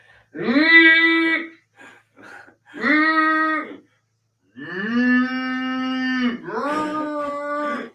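A person vocally imitates cattle mooing, giving several long, loud, droning moos in a row with brief pauses between them, close to the listener.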